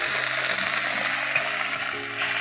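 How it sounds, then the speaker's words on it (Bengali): Black cumin (kalonji) sizzles steadily in oil in a pan on a gas stove, with a continuous close crackle and faint stirring throughout. "এই যে কালি জিরা বাজছি, এই যে গ্যাস কল তেল দিয়ে বাজছি"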